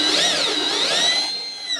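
A power drill bores a starter hole for a jigsaw cut. It gives a close, steady high whine that wavers slightly in pitch and lasts under two seconds.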